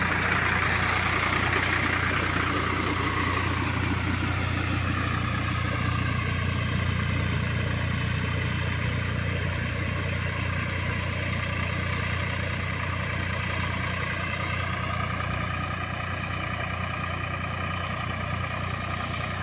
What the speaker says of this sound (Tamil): மேலே ஒரு டிராக்டர் ஏர் ஓட்டிக்கிட்டு இருக்கு